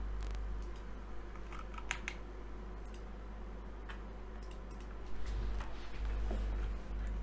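Typing on a Logitech G512 keyboard with GX Brown switches and Razer PBT keycaps, soft uneven clicks and taps over a low steady hum, fairly quiet and close.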